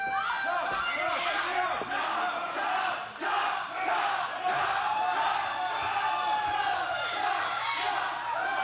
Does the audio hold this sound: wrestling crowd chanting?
yes